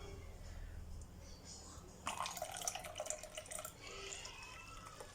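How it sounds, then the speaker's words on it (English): Warm water poured into a bowl of milk and flour for no-knead naan dough: quiet room tone, then a brief splashing, trickling pour lasting about two seconds before tapering off. "I'm going to be adding another 300 ml of warm water."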